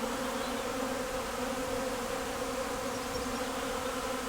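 A small swarm of honeybees hums near a hive, a dense, continuous buzz that stays steady and fairly close with no voices.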